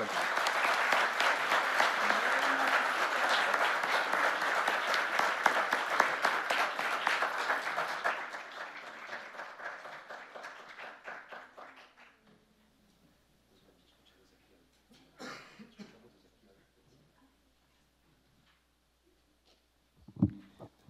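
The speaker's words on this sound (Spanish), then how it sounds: "un fuerte aplauso por la estupenda exposición" An academic audience at a law lecture on corporate criminal liability applauds at length, dense clapping that gradually thins and dies away around twelve seconds, followed by near silence with a few faint rustles and knocks.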